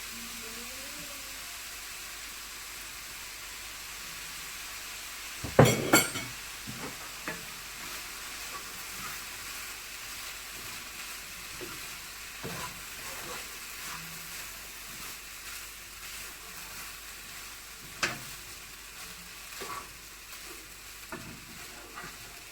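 Prawn fried rice being stir-fried with dark soy sauce, a faint steady sizzle with a sharp clatter of spatula strikes early on and scattered scrapes and taps afterward.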